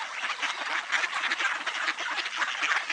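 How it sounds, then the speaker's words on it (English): Ducks on an icy pond make a dense, continuous chorus of quacks that overlap into a busy wash of sound, with no voices. "There's some more ducks walking on the ice."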